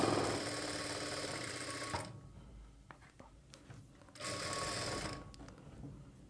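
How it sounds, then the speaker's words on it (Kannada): A sewing machine stitches the side seam of a plain blouse, running in two loud, steady bursts with a quieter pause between them and no talking. "ಇದಕ್ಕೆ ಮತ್ತೊಂದು ಸ್ಟಿಚ್ನ ಹಾಕ್ಕೊಳ್ಬೇಕು."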